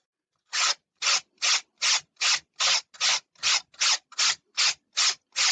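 Sandpaper rubs by hand against a model plane part in thirteen short, evenly spaced strokes, each a crisp scratchy swish close up with silence between, and no talking.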